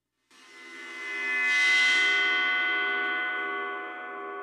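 A gong played with a bow produces a sustained metallic drone that swells in loudness, blooms with shimmering high overtones, then slowly fades while still ringing, with no talk over it.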